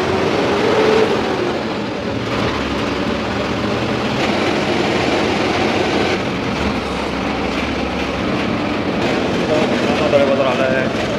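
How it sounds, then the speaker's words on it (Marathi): A Vande Bharat train runs on the Mumbai to Goa route, a continuous loud rumble and roar with faint rattling underneath, steady throughout as if heard from close by. "गाडी निघाली."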